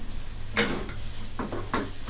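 Curry paste is stir-fried in oil for a pork belly dish, with a low steady sizzle under a few spatula scrapes and stirs, close by and moderately quiet.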